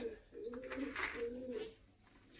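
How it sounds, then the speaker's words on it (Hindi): Pigeons coo in a coop, soft throaty phrases repeating close by in a quiet setting, with a faint click near the end. "अपने कितने कबूतर बाहर घूम रहे हैं"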